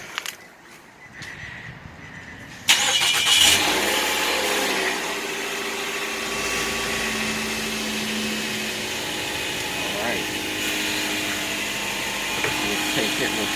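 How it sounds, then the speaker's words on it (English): A 2011 Nissan Altima 2.5 engine, freshly refilled with synthetic oil, cranks and catches after a quiet moment, then settles into a steady, loud idle with a constant hum and faint vibration. "Alright, so we're ready to start up."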